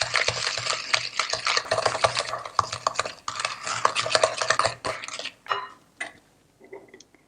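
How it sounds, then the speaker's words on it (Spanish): Butter and sugar beaten with a wooden spoon for homemade Italian panettone: steady, gritty scraping and thick stirring strokes that run continuously for several seconds, then thin out into a few scattered scrapes and taps. "con ayuda de una cuchara de madera, mezclamos la mantequilla con azúcar y las batimos"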